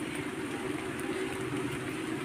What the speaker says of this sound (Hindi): अब मन हो रहा है कि अब थोड़ा सा बंद हो जाए बारिश